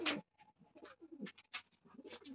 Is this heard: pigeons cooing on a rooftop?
yes